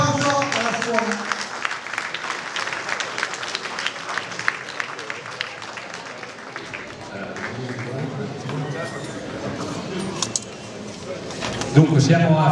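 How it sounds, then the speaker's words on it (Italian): Audience applause at an evening cooking show in Portomaggiore, honoring the hotel-school students of the Istituto Alberghiero di Ferrara. The clapping is steady and moderately loud for about twelve seconds, with voices talking over it throughout. "un applauso alla scuola"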